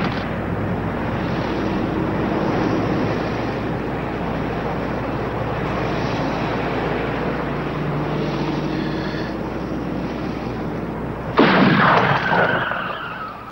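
Gunfire in a film scene: a dense, continuous roar of shots and blasts from a man shooting people, loud and sustained, with a sharper burst near the end.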